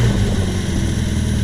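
A warm Triumph Spitfire engine revs steadily, a loud continuous low rumble filling the short stretch close by with no pause.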